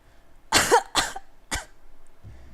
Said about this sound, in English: I cough as clouds of smoke slowly fade away after the impact.